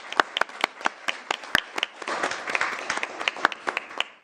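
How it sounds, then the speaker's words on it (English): A small group at a city council meeting gives a brief round of applause, sparse individual claps standing out over a thin layer of clapping, close and fairly loud. "we can give him a round of applause"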